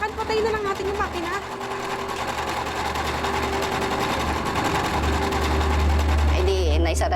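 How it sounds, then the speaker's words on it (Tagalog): An empty sewing machine runs on its own with no fabric in it, giving a steady, loud mechanical whir with a low motor hum for several seconds. Voices speak over it. "Talagang tunog talaga ng makina, rinig mo."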